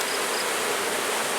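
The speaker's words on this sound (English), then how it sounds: "I'm going to shake these bees back onto here" Honeybees at an open hive during a Demaree honey-super combine, a dense, steady swarm buzz filling the space up close, loud and continuous with no voices.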